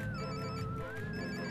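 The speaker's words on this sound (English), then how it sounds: "I gotta pick up the phone." A phone rings in The Simpsons Hit & Run video game, a steady warbling electronic tone held throughout at a soft level over faint game background.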